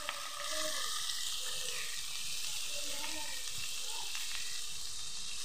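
Chopped onion frying in a pan while being stirred, a continuous sizzle with scraping strokes of the spatula, with a faint voice briefly in the background.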